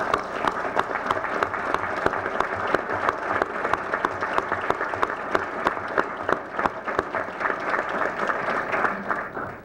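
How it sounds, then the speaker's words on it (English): A council chamber audience gives a standing scout troop a round of applause at a Common Council meeting. The clapping is steady and continuous, with sharp individual claps standing out, then trails off at the end. "so we can give you a nice round of applause"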